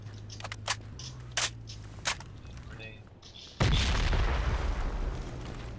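A loud, close grenade explosion in the tactical shooter Project Reality bursts in after a few sharp pops and faint radio chatter, then leaves a sustained roaring rumble.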